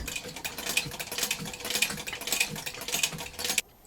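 A refurbished Singer 331k sewing machine, converted to hand crank, stitches steadily for several seconds in a rapid mechanical clatter of needle and feed, close and fairly loud, then stops abruptly.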